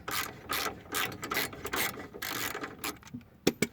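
A ratchet works loose the shock absorber bolts on a 2004 Nissan Navara D22, giving quiet repeated clicking and rasping strokes in an irregular rhythm, ending with a couple of sharper metallic ticks.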